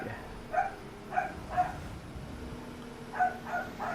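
A dog barks in short bursts, five or six yips spaced irregularly, moderately close, over a steady low hum from a room where someone is playing an excavator and dozer game.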